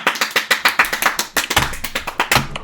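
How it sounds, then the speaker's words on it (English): Audience at a poetry reading applauds, a brisk run of steady claps from a small crowd, close and fairly loud, with no talk over it. "Let's give a full applause, not just a snap."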